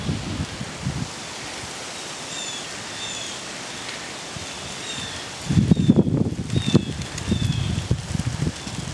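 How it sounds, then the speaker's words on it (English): Wind gusting up outdoors ahead of rain, a broad rushing rustle that swells into louder, buffeting bursts partway through, with birds chirping faintly in the background. "Wind's picking up."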